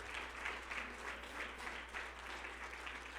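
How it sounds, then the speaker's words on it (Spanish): A church congregation applauds during a sermon, a sustained patter of many hands at low level over a constant low hum, no voices standing out. "¿Por qué no le damos un aplauso al Señor Jesucristo?"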